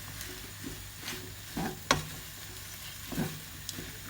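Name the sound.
stirring mushrooms and spinach in a pan for Cajun pasta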